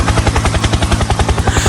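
Helicopter rotor thumping in a fast, even rhythm, loud and close, with a steady whine layered over the beating blades.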